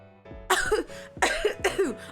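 Three loud, throaty coughs come in quick succession close to the listener, each with a voiced, almost groaning edge.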